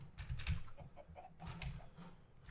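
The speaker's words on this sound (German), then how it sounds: "Wo sind denn die ganzen Hühner?" Chickens cluck softly in Minecraft, a series of low, close clucks spread across a couple of seconds alongside faint clicking.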